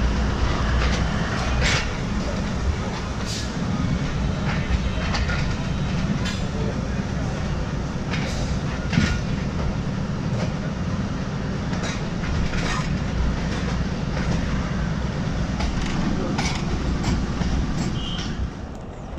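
Lahore to Narowal passenger train running steadily on its tracks, a continuous loud rumble with rhythmic wheel clicks and faint squeals throughout.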